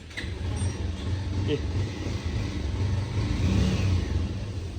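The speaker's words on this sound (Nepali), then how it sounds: "फेरि हेर्नुस् है त स्टार्ट गर्नलाई चाहिँ" A motorbike engine with a stalling problem idles and revs with a steady low rumble, rising slightly in intensity toward the end, while a person talks over it.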